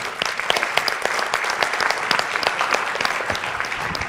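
Audience applause after a panel discussion about new learning spaces, dense sustained clapping from a room of people, loud and even with crisp individual claps throughout.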